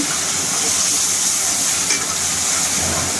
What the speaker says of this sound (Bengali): আগে মশলাটাকে ভালো করে কষিয়ে নিচ্ছি।